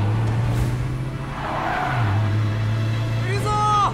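A car speeds and accelerates hard during a chase, the engine droning loudly beneath tense voices and dramatic music, with a tire squeal near the end.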